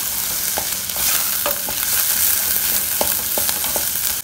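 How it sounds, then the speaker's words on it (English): Green chili and turmeric powder being stirred as they fry in a pan, with a steady sizzle underneath and sharp spoon scrapes and taps recurring every half second or so, no voices. "Give it a good stir."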